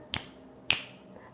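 Two sharp finger snaps about half a second apart, close and clear against near silence, with a faint third tick near the end.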